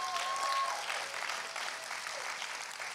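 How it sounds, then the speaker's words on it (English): A women's conference audience applauding steadily, a dense wash of clapping that holds for a few seconds and eases off slightly toward the end. "So let's give Katie a round of applause."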